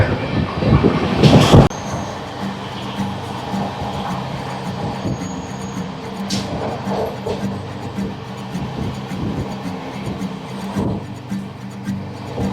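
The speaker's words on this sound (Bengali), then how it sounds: "আমাদের ট্রেন এখন ক্রস করছে শক্তিগড়।" A passenger train runs on rails past Shaktigarh toward Bardhaman, heard from onboard as a steady close rumble with rhythmic wheel clatter, a loud burst of rattling early on and brief high squeals.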